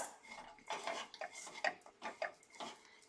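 Gujia dough is mixed and worked by hand in a bowl, giving soft, close squishing and light clinking sounds in an irregular rhythm with no talking.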